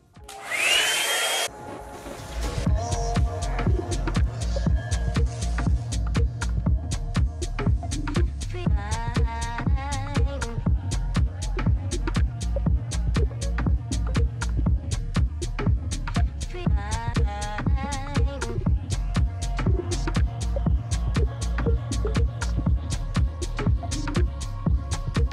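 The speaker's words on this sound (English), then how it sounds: "cooling the hair dryer down" A handheld hair dryer runs close and loud with a steady whirring drone while styling frizzy, gray, naturally curly hair, starting after a brief burst and continuing without pause.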